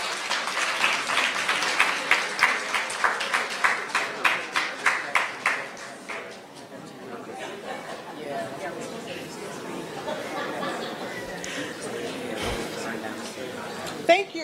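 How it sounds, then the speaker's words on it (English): A forum audience breaks into applause, a burst of distinct claps that tapers off after about six seconds into chatter and murmuring, with people talking and a few chuckles through the rest. "And can you all give her an applause?"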